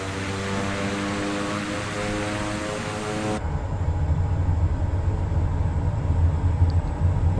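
A propeller plane engine at half throttle in Microsoft Flight Simulator 2024 gives a loud, steady droning hum, shifting partway through to a rougher, deeper rumbling roar that continues to the end with no talking.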